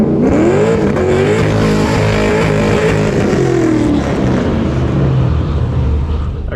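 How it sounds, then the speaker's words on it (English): Corvette on drag radials racing down a drag strip, a loud, continuous roaring engine whose pitch climbs and shifts through gears, with faint crowd noise in the background. "That Corvette sounds pretty mean over there."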